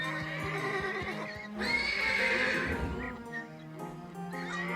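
A horse gives a loud, drawn-out whinny near the middle, with quieter snorts and nickers around it, close by and otherwise alone.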